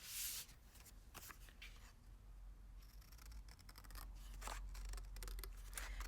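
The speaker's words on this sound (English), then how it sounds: "And again, I'm just trimming" Scissors trim paper for a mixed-media butterfly art card, a run of quiet crisp snips and rustles close by, with no talking.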